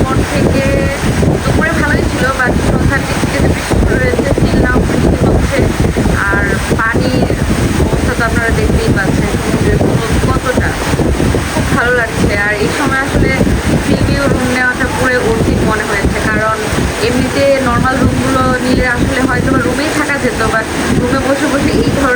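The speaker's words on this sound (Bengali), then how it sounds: "এত বড় বড় ঢেউ আসতেছে" Big sea waves roll in along the beach at Cox's Bazar in rainy off-season weather, a loud, constant roar of surf mixed with heavy wind buffeting close to the microphone for the whole stretch, with a voice faintly underneath.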